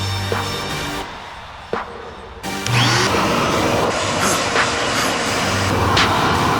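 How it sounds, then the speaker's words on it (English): A shop vac runs over carpeted car floor mats, a loud steady roaring whine that cuts in and out, with bumps and scuffs as the nozzle drags across the mats. "I am still gonna get the shop vac out and get it all swept up"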